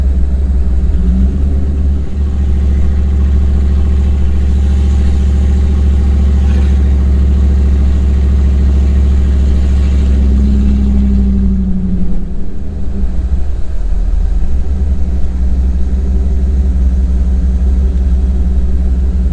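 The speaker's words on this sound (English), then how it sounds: "I just put it down in first gear, so it's made a weird stutter." A one-ton Jeep ZJ engine running in first gear, a loud, steady low rumble throughout with a slight stutter and a brief dip in pitch midway, no voices.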